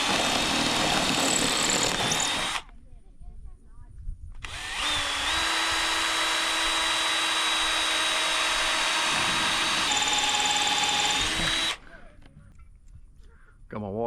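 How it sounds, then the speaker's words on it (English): A power drill pre-drills marked holes for a surveillance camera bracket, running in two sustained bursts, the second long and steady, close and loud, with a quiet pause between them. "I'm going to go ahead and pre-drill those."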